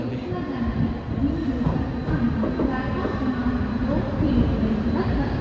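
Commuter train rolling into a station, a continuous rumble with clattering wheels and faint squeals, loud and close, with voices murmuring underneath.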